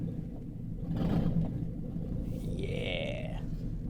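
A lifted donk car rumbles on its first drive, a steady low engine drone close and fairly loud, briefly swelling as it pulls away, with a whining tone rising near the end.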